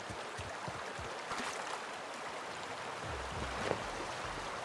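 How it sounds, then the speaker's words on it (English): Flowing river water in The Outer Worlds video game, a steady broadband wash of streaming and trickling that swells and recedes slightly, heard alone without voices. "Let's walk along some of the water here, and you can hear the water fade in and out."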